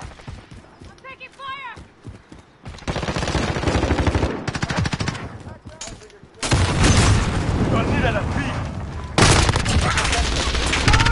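Video game gunfire with the player under fire: sustained machine-gun bursts and loud shots, near and intense, following a stretch of game voice chatter, with heavier fire building toward the end.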